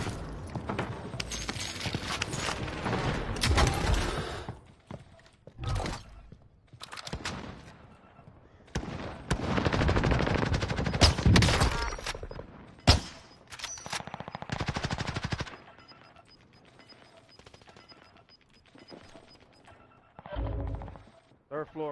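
Rapid machine gun fire in the battle royale shooter Warzone, loud bursts and single cracks across a long stretch, with a player talking over the gunfire at times.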